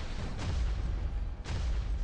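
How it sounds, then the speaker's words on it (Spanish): Gunfire and bomb blasts in the War Robots mech battle game, two distinct muffled explosions about a second apart over a constant low rumbling battle din, fairly quiet. "Buenos disparos, buenas bombas."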